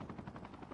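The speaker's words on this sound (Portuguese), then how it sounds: "Helicóptero, hein?" Helicopter in the mobile shooter game COD Mobile, a steady rotor chop that pulses through the short stretch of game sound, fairly quiet, with no voices over it.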